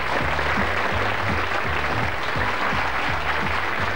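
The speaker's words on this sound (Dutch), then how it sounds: "Een applaus voor meneer Blikman." Studio audience applauding a game show contestant on a 1987 Dutch TV show, a steady dense wash of clapping filling the whole stretch, with a faint low rhythmic musical pulse running underneath.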